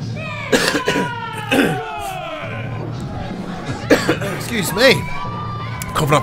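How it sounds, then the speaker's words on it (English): Several sharp, close coughs burst out over a noisy crowd murmuring and shouting in the background at a pro wrestling show. "coughing up a storm here"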